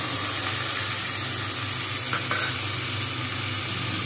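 Ground mustard paste sizzles steadily in a pan over a low flame with green chilli, cooking for a restaurant-style Bengali mustard pabda fish curry; a continuous soft, even frying hiss with no talking.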